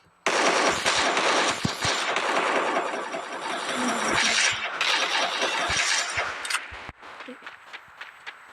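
Rapid bursts of automatic gunfire in an online multiplayer shooter game, loud dense rattling volleys for several seconds, then a sudden drop to scattered faint clicks and single shots.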